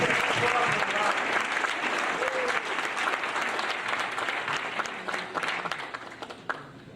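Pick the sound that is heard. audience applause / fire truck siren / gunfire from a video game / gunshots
audience applause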